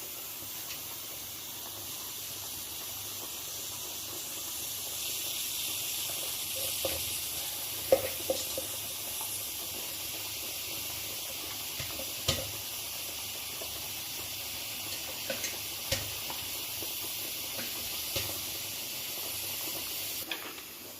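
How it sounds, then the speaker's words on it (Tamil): Fish curry simmering and sizzling in a pan, a steady soft hiss with occasional small pops and bubbling, close by and alone without talk. "இப்போ குழம்பு ரெடி ஆயிடுச்சு. நம்ம மீனை போட்டுக்கலாம்."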